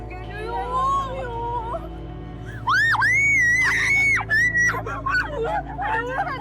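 A woman screams in a dramatic scene, with long, loud, high-pitched shrieks that rise and break off in several bursts over a low, steady background drone.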